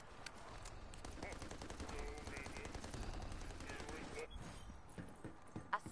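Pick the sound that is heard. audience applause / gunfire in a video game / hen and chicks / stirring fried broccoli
gunfire in a video game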